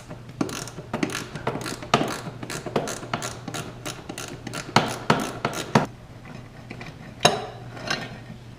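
Small ratchet with a baby socket working on hidden transmission mount bolts on a BMW M3 track build, giving rapid clicking runs and metallic clanks at close range, with no talk.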